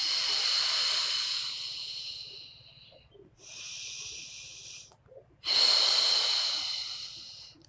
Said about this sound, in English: And in breath. Exhale.